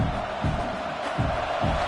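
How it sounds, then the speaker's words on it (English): Steady roar of a packed college football stadium crowd in a Texas vs UCLA video game matchup, a dense continuous wash of noise with faint low rumbling swells underneath. "Listen to this crowd just shaking the girders of this place trying to help their defense"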